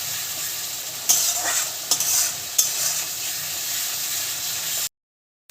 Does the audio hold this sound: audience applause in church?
no